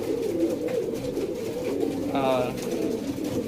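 Pigeons in a loft coo in soft, low, repeated calls, with a clearer throaty coo partway through, all under someone talking nearby.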